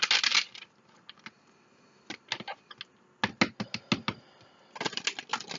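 Cards riffled and tapped in quick bursts, a long shuffle at the start, scattered snaps in the middle, and another riffle at the end, close and fairly quiet.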